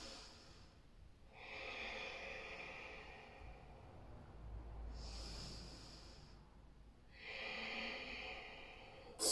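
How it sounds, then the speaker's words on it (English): Slow, deep, hissing breaths in a quiet yoga class, three long airy inhales or exhales spaced a few seconds apart, soft and close, with no talking. "Two more really deep breaths"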